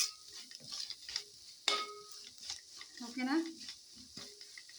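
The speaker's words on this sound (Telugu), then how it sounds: "ఒకసారి ఇలా తిప్పేయండి" A spoon stirring fish curry masala in a pan, with scraping clinks and a soft sizzle, close and moderate, while a person speaks briefly.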